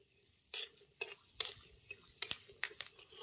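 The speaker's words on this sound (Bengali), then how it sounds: "বাদামটাকে হালকা আঁচে এটা আমি ভেজে নেব" Peanuts being stirred and fried in a pan over low heat: a close series of about eight short scraping clinks from a utensil, uneven in rhythm, with quiet gaps between.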